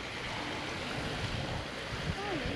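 A working windmill pump at Fowlers Bay in Australia drops water, a constant splashing rush that is heard outdoors and is partly blurred by wind noise on the microphone.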